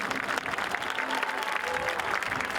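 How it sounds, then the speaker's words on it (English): Stadium crowd applauding at a high school football game, a steady broadband patter of clapping held at an even level for about three seconds with some faint voices mixed in. "Please give a round of applause for Logan Danzone."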